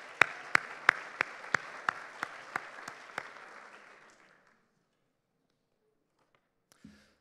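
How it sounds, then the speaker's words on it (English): A small conference audience gives a brief round of applause, with one person's sharp, evenly spaced claps standing out near the front before the clapping dies away into near silence. "let's give them a round of applause"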